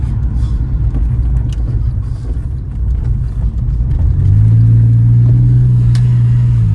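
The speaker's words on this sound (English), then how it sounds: "this is on its standard exhaust as well, so it sounds lovely" A Porsche 911 engine on its standard exhaust, droning loud and close as the car drives, then rising into a steadier, stronger tone under acceleration.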